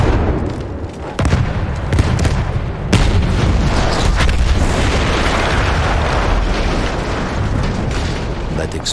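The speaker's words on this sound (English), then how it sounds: "That explosion was one of the sweetest sights of the war for me." A loud, rumbling blast in Battlefield 1 erupts and rolls on in a dense, sustained roar of debris and noise, with a voice briefly heard beneath it.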